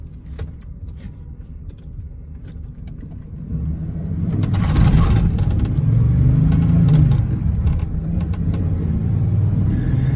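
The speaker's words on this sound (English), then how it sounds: "Good acceleration for a straight six." A 1995 Ford F150 Supercab 4x4 pickup with a straight-six engine accelerates, its engine rumble swelling from a steady idle-like drone into a louder, sustained pull heard from inside the cab.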